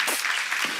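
A church congregation applauds in a short, dense burst of clapping that fills the room and carries straight through.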